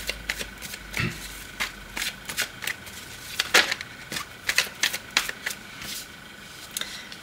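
Tarot cards shuffled for a reading, heard as quiet, irregular flicks and taps that come in quick clusters over a soft background hiss.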